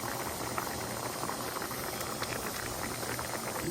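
A pot of green banana curry boiling on the stove gives a continuous close bubbling hiss with scattered soft pops, steady throughout and with no talking.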